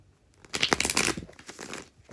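A quick burst of tarot card shuffling up close, a rapid papery riffle lasting about a second before trailing off into softer rustles.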